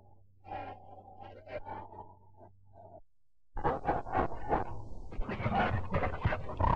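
A dog in a 1935 film pants and whimpers close by in short breathy bursts, quieter at first, then louder and more insistent after a brief pause.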